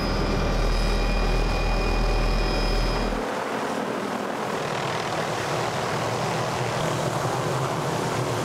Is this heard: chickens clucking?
no